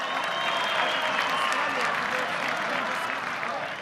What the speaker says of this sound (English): can we have a round of applause for these two heavyweights?